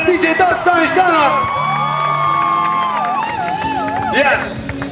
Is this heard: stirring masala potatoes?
no